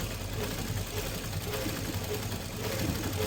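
A sewing machine runs steadily while stitching a shirt, a continuous close mechanical whir with a fast rhythmic tick, with no pauses through the short stretch.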